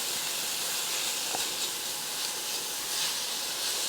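Garlic sizzling in a skillet for a chicken and rice casserole, a steady, close hiss that stays at an even level, with a couple of faint soft clicks and no voices.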